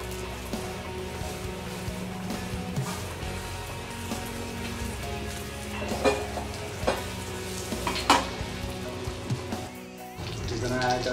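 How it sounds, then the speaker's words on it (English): Butter sizzles and crackles steadily in a hot pan, a constant frying hiss with a few louder pops and clinks of utensils. "So this is hot now. We're gonna add butter in this."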